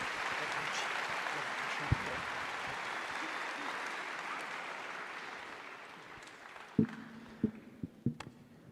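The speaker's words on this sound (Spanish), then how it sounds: "Vamos a recibirle con un buen aplauso" A Baptist church congregation at a 2023 conference applauds a guest preacher with soft, distant clapping that gradually fades, and a few short voice sounds close out the end.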